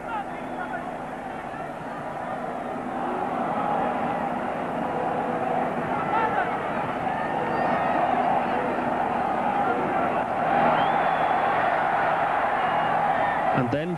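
Steady roar of a large stadium crowd at a 1994 World Cup match, a broad sustained murmur that swells slightly after a header into the side netting, with a commentator speaking over it.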